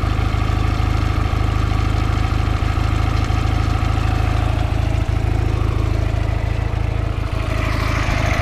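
A Ural motorcycle engine with 28 mm Dell'Orto carburettors idles just after starting, a steady low rhythmic putter that runs unbroken and close with no voices.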